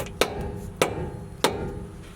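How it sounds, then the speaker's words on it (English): Three sharp metallic hammer strikes on a part of a 24V Cummins truck ring out at even intervals, each clang decaying quickly over a low background hum. "I'm gonna have to get a regular hammer,"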